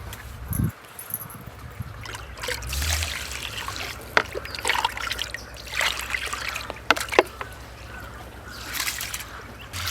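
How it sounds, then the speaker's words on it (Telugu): Biryani rice is washed in water, with trickling, dribbling water and irregular splashes and swishes of the grains being rinsed by hand, fairly close and varying in loudness. No speech is heard. "నేను ఈరోజు బియ్యం కడుగుతా"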